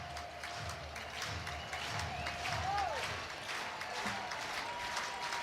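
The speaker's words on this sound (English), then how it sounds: "Crowd alive." Crowd noise at a college baseball game between Auburn and Mississippi State, a steady roar of cheering and clapping that swells slightly after a full-count pitch, heard with a faint voice over it.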